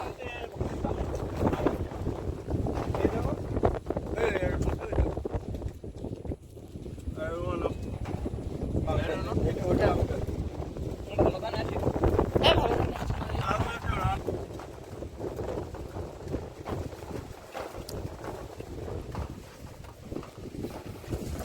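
Strong wind buffets the microphone in rough, gusty bursts, with voices talking intermittently in an open watermelon field.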